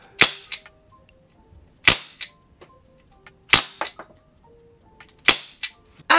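Webley MK VI airsoft revolver firing: four sharp, loud cracks spaced about every second and a half, each followed by softer clicks and mechanical clacks between shots, close up with no talking.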